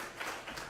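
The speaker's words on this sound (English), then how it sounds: "let us give him a clap" An audience at a conference plenary session applauds a presenter, a faint, continuous wash of clapping from many hands heard at a distance.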